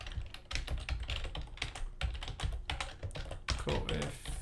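Rapid, close keystrokes on a computer keyboard clatter in uneven bursts of taps, loud and dry, with no talking over them.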